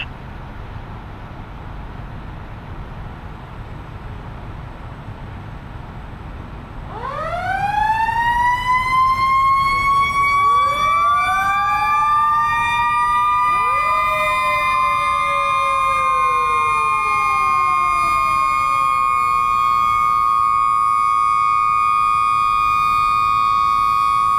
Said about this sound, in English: This is the final alarm